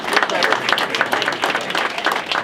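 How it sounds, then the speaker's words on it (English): Short burst of audience clapping at an evening networking mixer, brisk and fairly close, mixed with crowd murmur and some talking. "Give her a round of applause"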